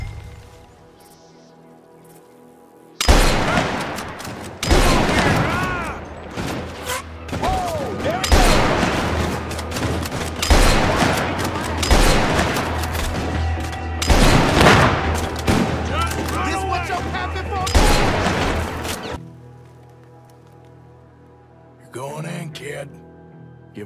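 Loud gunfire fills a Red Dead Redemption 2 gunfight in dense, overlapping bursts of shots and booms that run for about sixteen seconds before dropping off, with a few scattered shots afterward and voices mixed in.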